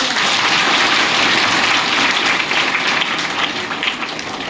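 Students at a girls' middle school in Tatapani clap for guests at a bicycle distribution event, a dense, loud wash of applause from a crowd that tapers slightly toward the end, no voices over it.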